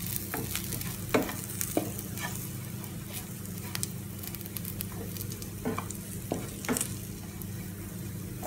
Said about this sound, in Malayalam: മസാലയുടെ ഒക്കെ 10 മണം ഒന്ന് മാറുന്നിടം വരെ ഒന്ന് വഴറ്റി കൊടുക്കാം.